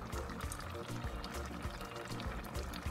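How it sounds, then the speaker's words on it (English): Cooking oil poured from a spoon into a pot of water yam porridge (ikokore) as it cooks, a soft continuous liquid pour with a low, steady bubbling texture throughout. "So at this point is where I put my oil."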